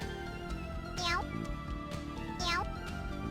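A cat-shaped warp point in the Bebder video game gives two distinct rising meows about a second and a half apart, close and clear over a soft musical backdrop with faint intermittent ticks.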